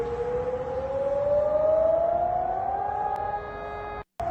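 An air raid siren wails alone in a rising, sustained tone, then falters and cuts out abruptly near the end before a brief return.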